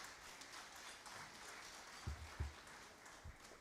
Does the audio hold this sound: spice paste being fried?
no